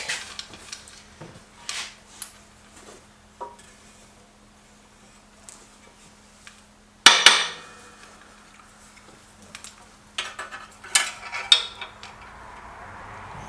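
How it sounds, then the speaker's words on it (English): Light taps from a small wooden knocking stick on metal engine parts in a workshop, scattered clicks and knocks with one sharper metallic strike midway, close and without talk. "Get a little knocking stick."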